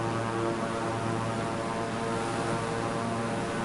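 A large, heavy airplane flying low in Microsoft Flight Simulator 2024 on PS5 produces a steady, loud, droning engine roar with a constant tone and no talking.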